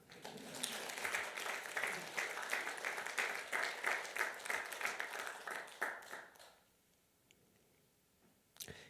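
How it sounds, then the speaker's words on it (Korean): A church congregation applauds together for several seconds, a dense patter of many hands heard at moderate distance, then fades into quiet with a brief clap near the end. "박수 한번 주세요."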